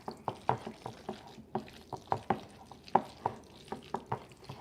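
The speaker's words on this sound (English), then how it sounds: "Now I'm going to stir everything together." A spoon stirs a thick tuna patty mixture in a bowl, a quiet, close rhythm of soft wet scrapes and taps repeating about every half second.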